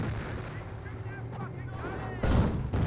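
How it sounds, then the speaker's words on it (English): A German StuG assault gun firing its 75mm cannon in Company of Heroes 1 during a British versus Wehrmacht match: a loud, booming shot bursts out abruptly over constant battlefield rumble, followed by a second heavy blast. "They're saying hi back with a 75mm."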